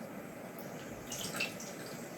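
A kitchen tap runs water during dessert preparation, giving a faint, steady trickle with a slight splash near the end and no talking.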